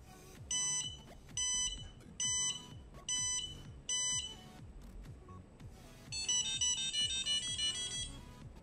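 An Arduino-driven electronic buzzer beeps out a bright, repeating melody in short phrases, then plays a faster run of notes near the end.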